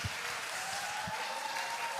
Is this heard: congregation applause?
yes